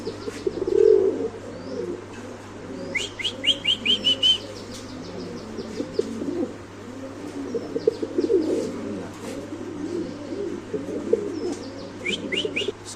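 Pigeons at a bird market, including breeding-quality birds, coo softly and steadily while sharp chirps and tweets break out in short bursts and a low constant hum runs underneath.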